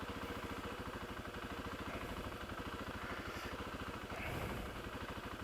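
Kawasaki KLX300 motorcycle engine idling unsteadily, a rapid low pulsing thump that holds for the whole stretch with a slight surge near the end, close and alone without talk.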